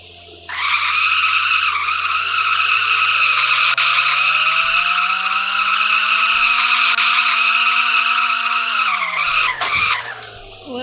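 A car in a video game skids with a long, sustained tire squeal over engine drone, holding steady for several seconds before the pitch dips and it cuts off.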